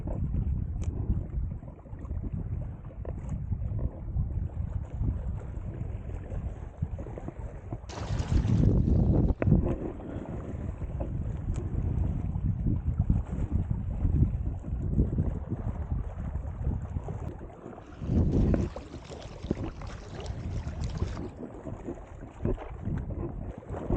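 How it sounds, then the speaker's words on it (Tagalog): Strong wind buffets a small fishing boat on high water, a rough, rumbling roar against the microphone with sharper gusts swelling midway and again near the end. "Taas ang hangin."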